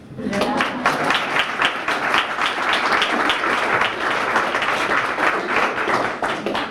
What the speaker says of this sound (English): I'd like to have a round of applause for all of us here.